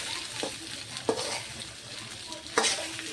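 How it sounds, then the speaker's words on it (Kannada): Potatoes and beans fry in a pan with a steady, close sizzle, broken by a few sharp scrapes of a spoon stirring them, alone without talk. "ಆಲೂ ಮತ್ತು ಬೀನ್ಸ್ ಎರಡು ಹಾಕೊಳ್ಳಕತ್ತೀನಿ ನೋಡಿರಿ ಬಟಾಟೆ ಹಾಕ್ಕೊಂಡು ಫ್ರೈ ಮಾಡ್ಕೊತೀನಿ ರೀ"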